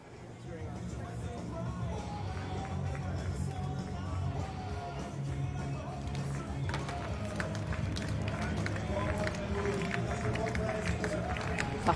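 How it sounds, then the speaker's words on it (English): A stadium crowd at a long jump athletics meeting in Košice claps in unison ahead of an attempt, a steady rhythmic patter that swells gradually, heard at a distance beneath a commentator speaking throughout. "Tapping in the crowd"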